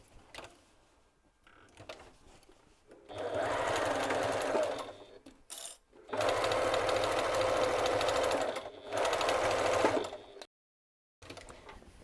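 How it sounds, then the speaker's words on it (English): Sewing machine stitching across the corner of a fabric hobo bag, a close, steady mechanical whir in three runs of a few seconds each, with brief pauses and quiet handling noises between them. "So now I'm going to join this. I'm going to sew it across this corner."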